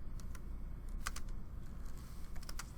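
Typing on a computer keyboard, a run of light, quick key clicks in irregular bursts, close but faint over a steady low background hum, with no speech.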